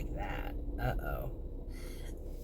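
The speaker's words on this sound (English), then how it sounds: "there's a belt in there that does not sound good" A car engine belt squeals and creaks with a harsh, wavering tone, loud and close, running steadily through the clip beneath a low mechanical rumble, with a brief brighter screech near the middle.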